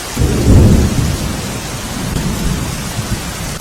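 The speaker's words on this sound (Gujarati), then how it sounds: "ધોધમાર વરસાદ અનેક વિસ્તારોમાં વરસી રહ્યો છે" Heavy rain pours in a dense, steady roar in Khambhalia, Dwarka, with a deep low rumble swelling near the start.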